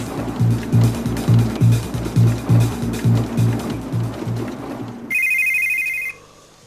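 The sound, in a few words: phone ringtone ringing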